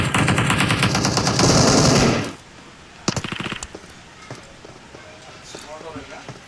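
Automatic gunfire in a battle royale video game: a rapid, loud burst lasting about two seconds, then a shorter volley and scattered lighter shots, with people talking over it.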